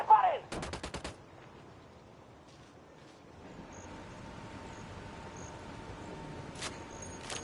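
Gunfire in Ghost Recon Wildlands comes as two sharp rapid bursts at the start and another brief burst near the end, with quieter ambient rumble between them.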